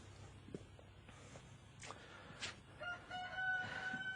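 Chickens in an urban permaculture veggie patch, heard faintly with a rooster crow toward the end, over soft outdoor background noise and a few light scuffs.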